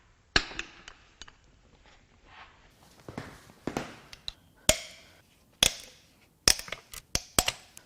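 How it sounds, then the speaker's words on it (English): Sharp, separate metallic cracks and ratchet clicks from wrench work breaking loose the intake manifold bolts on a Mitsubishi 4B11T turbo engine from a Lancer Evo X, about a dozen close, loud transients spaced irregularly with quiet gaps between. "Next, I'm going to crack the bolts loose that hold the intake to the head."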